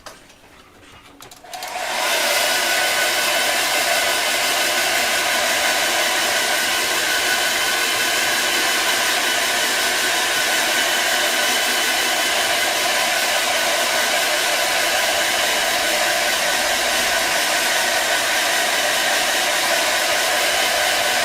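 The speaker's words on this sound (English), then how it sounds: "I'm just going to give it a quick little blast with the old hair dryer." A hair dryer blows steadily and loudly close by to dry paint on a Kroxigor miniature, starting after a brief quiet moment and running unbroken, broad and constant, with no talking.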